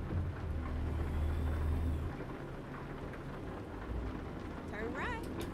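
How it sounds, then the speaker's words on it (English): Steady rain hisses over a low rumble on a truck in American Truck Simulator, with wipers running, continuing throughout with faint squeaky sounds near the end. "Oh, it's raining now."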